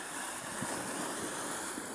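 Sea waves wash in a steady, broad rush at night, close and continuous, with wind noise blended through and no voices.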